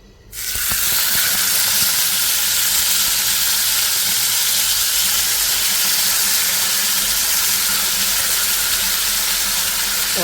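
Chicken dropped into hot oil on a tawa bursts into a loud, steady sizzle that starts abruptly and holds evenly for the rest of the stretch, close and uninterrupted by voices.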